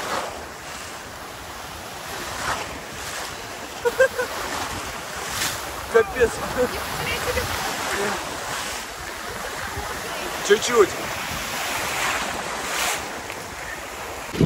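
Sea waves roll and wash over swimmers near the shore, a continuous surf roar with wind buffeting the microphone, while people talk briefly over the water.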